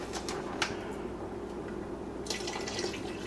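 Spring water being poured into a simmering pot of beef bone soup with kale: a faint, steady watery trickle with a few drips and splashes, close and quiet, with no talking.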